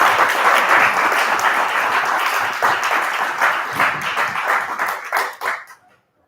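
Audience applause at a speech and forensics showcase night, a dense sustained clapping that fades and stops just before the end.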